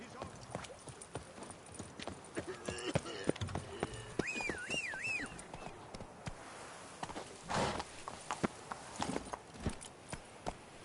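Galloping hooves of Roach, Geralt's horse in The Witcher 3: Blood and Wine, beat in a steady run alongside game music and a voice, with a melodic whinny-like swell midway and louder impacts near the end.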